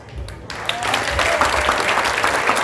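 Applause from an audience in a hall at an eloquence and writing contest final, a broad steady clatter of clapping building after a brief quiet start, with a voice faintly underneath.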